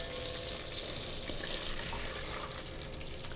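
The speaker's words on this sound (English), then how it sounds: "so you can hear the sizzling right now." Soft steady sizzling and bubbling of butter and milk in a pan, continuous crackle with faint liquid sounds.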